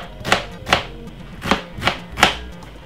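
A knife chops a small white onion on a board in five crisp, evenly spaced strokes, each a sharp close thud with quiet gaps between.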